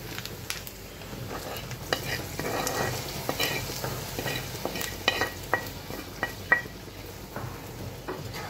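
Ginger paste cooks into chicken in a pan, with a low, continuous sizzle broken by frequent sharp scrapes and clinks of a spoon stirring against the metal, close and without talk.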